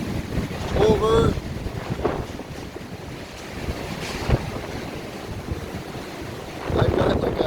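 Super Typhoon Noru's winds roar over Danang, Vietnam, heard from a high vantage point. Dense, gusty rushing buffets the microphone, surging loudest at the start and again near the end, with a wash like surf underneath.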